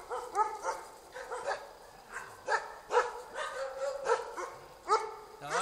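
A male Swedish Elkhound (Jämthund) named Unski gives repeated close barks, yips and whimpering whines in an uneven rhythm, loud and alone.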